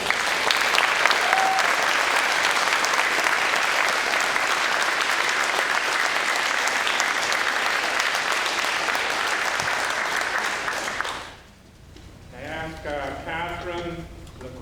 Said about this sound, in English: Another applause for them.